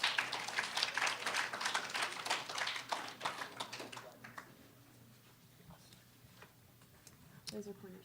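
Audience applause for a student team at a nanoscience lab summer institute's final presentations, a dense burst of many hands clapping that thins out and fades after a few seconds, with a brief clatter near the end.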